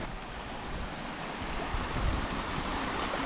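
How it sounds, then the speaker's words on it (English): A small snow-fed mountain creek flows near Juneau Falls in Alaska, giving a steady, close, unbroken rushing wash of water throughout, with no voices over it. "Those loud old falls came from this cute little creek."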